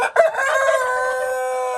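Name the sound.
chickens, buff Orpington breed, clucking and crowing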